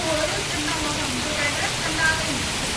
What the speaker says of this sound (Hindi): देखिए कितनी ज़ोर से बारिश है